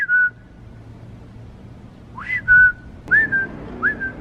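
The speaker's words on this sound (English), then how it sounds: "this is a grown man whistling at his girlfriend like she's a dog" A man whistles to call his girlfriend: a short sharp whistle, a pause, then a series of rising and level whistled notes in quick succession, clear and fairly close.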